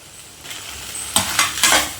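Mutton fries in oil in a pan for mutton kulambu while a utensil stirs it, giving a soft sizzle and then three sharp, close scraping strokes near the end, with no voices.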